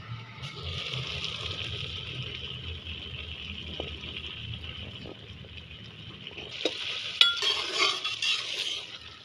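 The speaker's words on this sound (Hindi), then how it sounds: "चम्मच इसका हिलाते रहें।" A spoon stirs carrot chutney cooking in a pan, a steady close scraping and bubbling sizzle that runs throughout and grows louder and busier near the end, with no voices.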